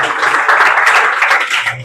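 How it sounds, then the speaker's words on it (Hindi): A classroom of students claps hands for someone in a dense, steady burst of applause that lasts the whole moment. "तालियां बजाओ भाई इनके लिए"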